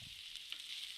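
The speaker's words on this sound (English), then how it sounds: "so those have been frying now for a couple of minutes, so I'm going to add the mushrooms in as well" Samosa filling sizzles steadily in a frying pan before mushrooms go in, a constant close hiss of frying with no voices over it.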